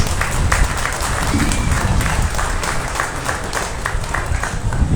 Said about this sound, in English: So let's give both these exhibitors a nice big round of applause.